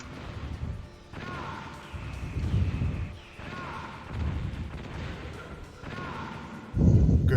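Rockets fired at Metal Gear Rex in Metal Gear Solid Integral land as heavy repeated booms and crashes, several bursts spaced a second or so apart, with game noise underneath and a louder blast at the end.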